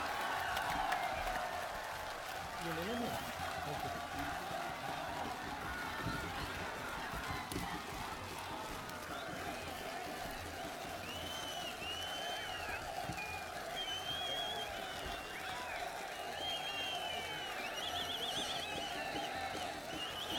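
A rally crowd in Dooru, Anantnag, applauding to welcome Rahul Gandhi, a continuous wash of distant clapping and cheering, steady throughout, with amplified voices and crowd noise mixed in.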